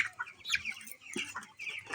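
Young chicken chicks at a household coop, gathered for an eye-drop vaccine against Ranikhet disease, chirp in quick high peeps, several close calls overlapping irregularly with no talking.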